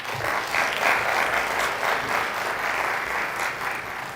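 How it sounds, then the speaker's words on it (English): Audience applause at a fundraiser breakfast, a steady, dense round of clapping from a sizable crowd that carries on throughout with no talking over it. "Another round of applause for Beth."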